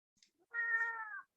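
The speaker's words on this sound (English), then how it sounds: "She actually was meowing quite insistently during the entire chanting." A cat meows once, insistently, in a single drawn-out cry close by, with a few faint soft sounds just before it in an otherwise quiet room.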